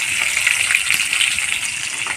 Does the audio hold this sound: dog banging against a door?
no